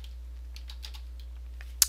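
Keys tapped softly on a computer keyboard while a link name is entered in Adobe Dreamweaver, a few scattered light clicks ending in one sharper keystroke, close and quiet with a steady low hum beneath.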